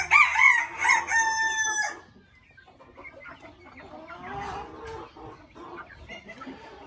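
A rooster crows loudly up close, then hens and chicks keep up a low, scattered clucking and peeping.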